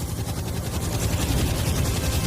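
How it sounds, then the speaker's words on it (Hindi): Helicopters pass overhead near the pyramids in Egypt: a loud, continuous low rotor drone with a rapid rhythmic chop, filling the whole stretch without speech. "जाही, क्या तुम्हें हेलीकॉप्टर्स की आवाज आ रही है?"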